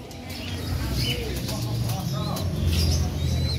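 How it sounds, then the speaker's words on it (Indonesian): Pigeons coo and chirp amid the bustle of a pigeon bird market in Tunggorono, Jombang, with people talking nearby throughout. "sudah banyak burung merpatinya"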